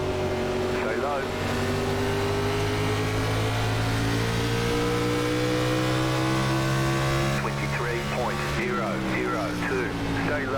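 NASCAR Xfinity race car engines at Richmond Raceway in the iRacing game roar loudly and continuously, pitch slowly sliding down then rising as gears shift, with other cars whining nearby and a voice talking over the engine noise.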